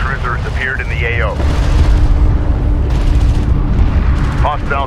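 A hostile strike craft is shot down in Homeworld: Deserts of Kharak, bringing loud booming explosions and a thick rumble of battle, while radio-style voices talk over the top.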